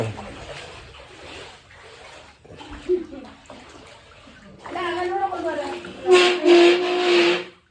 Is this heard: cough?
no